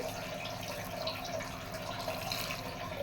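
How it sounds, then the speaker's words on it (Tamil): Water is poured into a pressure cooker pot of araikeerai (amaranth greens) for kadayal, making a steady, continuous splashing rush that stays even and fairly soft throughout, with no one talking. "தண்ணி சேர்த்துக்கிறேன்"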